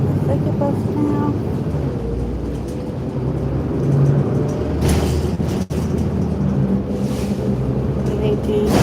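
Inside a moving bus, a low engine rumble and road noise drone steadily, with occasional rattles and a brief thump, while a person talks over the ride.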